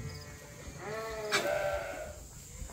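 Rams and young ram lambs penned together on a sheep farm; one clear, wavering bleat rises mid-clip at close range over a quiet outdoor background, with no talk.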